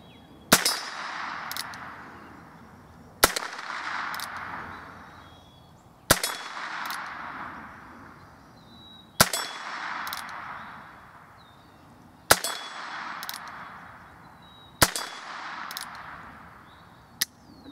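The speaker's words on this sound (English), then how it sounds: "Let's give it some shots." Six sharp gunshots from a Heritage Rough Rider Buntline .22 LR revolver with a 16-inch barrel, fired at 25 yards, spaced about three seconds apart, each crack trailing off into a ringing decay.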